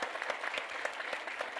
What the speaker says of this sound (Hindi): इनको मैं चाहूँगा पहले तो एक बार जोरदार तालियां बजाएं